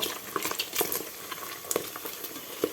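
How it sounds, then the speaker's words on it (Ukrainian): Steady crackling sizzle of pork frying in a pot, with scattered sharp pops and spits, close and fairly quiet, no voices. "Тут уже в мене смажиться м'ясо"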